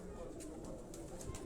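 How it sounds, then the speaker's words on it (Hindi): A Fakir Gul pigeon coos softly in a Quetta loft, its low, faint calls repeating over a steady background hum with a few brief higher chirps. "ये फकीर गुल कबूतर है।"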